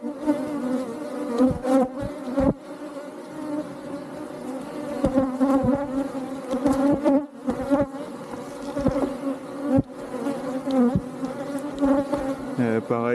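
Honeybees buzz at an opened hive during a routine inspection of hive 3, a dense steady drone from many bees, close and loud, with sharp individual buzzes passing near.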